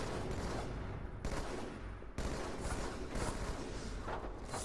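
Rapid bursts of gunfire from Halo 2 at a LAN event, dense overlapping shots packed together with steady game noise throughout and no clear gap between them.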